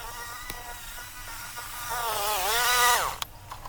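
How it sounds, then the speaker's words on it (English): A whipper snipper buzzes steadily as it cuts tall overgrown backyard grass, its whine rising in pitch for a couple of seconds near the end before cutting off, with a faint hum beneath. "So we are starting with the snipper to slash it down first."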